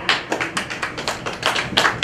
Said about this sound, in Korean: 여러분의 박수 부탁드리겠습니다.